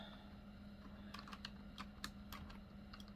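Quick, light keystrokes tap out a short phrase on a computer keyboard in an irregular burst of clicks, close by and fairly quiet over a steady low hum.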